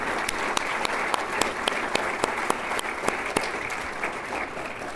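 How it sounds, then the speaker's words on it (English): Sustained applause from a dinner crowd at an annual banquet, steady dense clapping with a few sharper individual claps standing out, continuous and even throughout. "let's give them a round of applause for a very, very successful and record-breaking annual dinner"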